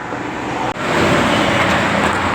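Vehicle travelling along a good road in Ecuador, heard as a loud, steady close rumble of tyres and engine with wind noise, briefly interrupted by a short dip.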